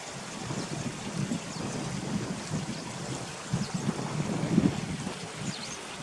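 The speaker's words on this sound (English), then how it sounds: "just listen to the streams running down there" Streams running beneath a small wooden bridge at Careyburn, a steady broadband wash of flowing water with gusts of wind noise and no talk.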